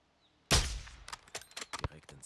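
A single sharp sniper rifle shot in Call of Duty Modern Warfare 2 cracks loudly and decays, followed by a scatter of quick clanks, impacts and short game sounds.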